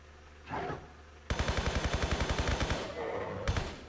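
Rapid automatic MP5 gunfire in Tomb Raider III, a loud, steady burst of around twenty evenly spaced shots, preceded and followed by single sharper game effect sounds.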